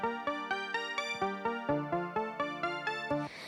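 Synth arpeggiator in Ableton Live stepping through a chord in 8th notes, about a dozen evenly spaced plucky bright notes at a steady moderate tempo, quiet and clean, with a brief noisy tail at the end.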